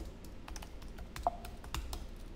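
Terminal commands are typed on a computer keyboard, a quick run of sharp, fairly soft key clicks in an uneven rhythm, close by and with no voices.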